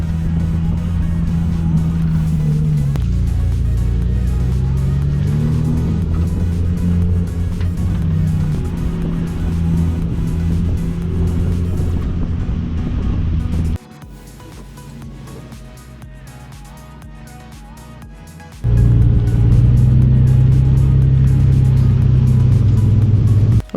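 A 600hp right-hand-drive Toyota Supra MK4 engine idles and revs loudly up close, pitch rising and falling through several blips, then briefly quietens to a low idle before surging back to a strong, steady rev.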